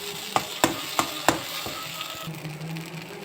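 Ingredients for lemon rice stirred in a pan, with four sharp spoon scrapes or taps against the metal in quick succession over a low sizzle, followed by softer mixing.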